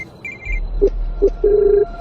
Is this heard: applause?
no